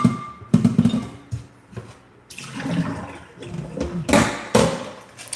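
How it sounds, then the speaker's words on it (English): Water running and splashing in a sink during dishwashing, with intermittent gushes, clatters and knocks of dishes, close and fairly loud, and no talking. "Let's do some dishes."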